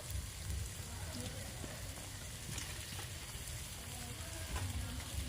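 Duck meat sizzles steadily in a pan as fried potatoes go in, a dense continuous frying hiss with faint scraping, close and even, with no one talking.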